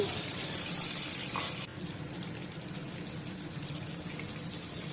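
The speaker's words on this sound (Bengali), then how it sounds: "প্রথমে আলুগুলোকে ভেজে নিচ্ছি" Potatoes fry in mustard oil over a high flame, a steady, dense sizzling hiss that runs throughout and drops slightly in level partway through.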